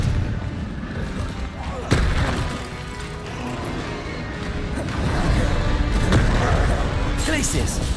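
Fiery Confringo spell blasts burst during frantic Hogwarts Legacy combat, several loud booming explosions and crashes landing a few seconds apart over a dense, continuous battle din, with voices talking underneath.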